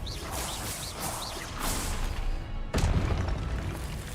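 A Confringo fire spell bursts in Hogwarts Legacy, a sudden loud explosive boom with a sharp crack that rings out over whooshing spell effects and steady background game sound.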